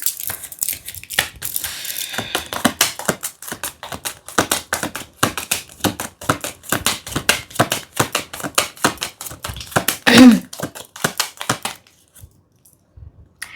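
Tarot cards are shuffled and drop in a long, fast string of crisp clicks and flutters. The sound is close and steady, with a sharper burst near the end before it goes quiet.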